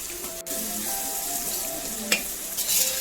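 Spicy prawn pickle with dry chili flakes and garlic cooks in a pan, a steady close sizzle with a few stirring clinks and scrapes, no speech.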